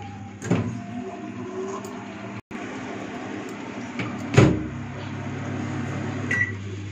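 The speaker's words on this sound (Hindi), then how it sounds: "अब हम ब्रेड टिन को माइक्रोवेव ओवन में रख देते हैं लो रैक पे।" A convection microwave hums steadily while its door clicks open and a metal bread tin clunks down onto the low rack inside, with a short thump midway through.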